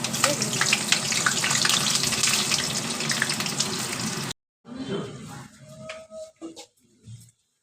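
Potatoes fry in hot oil in a wok with a dense, loud sizzle for about four seconds. It then cuts off abruptly, leaving quieter, intermittent kitchen sounds.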